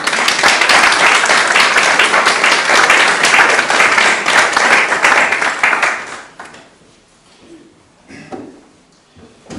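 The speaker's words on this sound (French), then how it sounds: "je pense qu'on peut les applaudir pour la remercier" Applause at a conference, dense and steady clapping from an audience for about six seconds before tapering off into near quiet with scattered faint handling noises.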